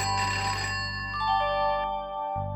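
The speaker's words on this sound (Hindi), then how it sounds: "किसका फोन है माँ?" A phone rings with a bright electronic ringtone melody in a home, loud and alone for about two seconds before cutting off.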